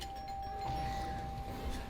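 Doorbell-like chime signalling a quick time event in Sonic Unleashed on Wii/PS2, a steady sustained tone ringing out over game music and effects for a couple of seconds.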